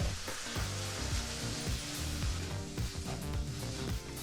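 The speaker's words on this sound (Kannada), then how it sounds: "ಟೊಮೊಟೊ ಹಣ್ಣನ್ನು ಈರುಳ್ಳಿ ಜೊತೆ ಸೇರಿಸಿ ಒಂದು ನಿಮಿಷ ಫ್ರೈ ಮಾಡಿಕೊಂಡ್ರೆ ಸಾಕಾಗುತ್ತೆ" Chopped tomato and onion fry together on a low flame in a pan, a steady close sizzle with soft stirring scrapes running throughout.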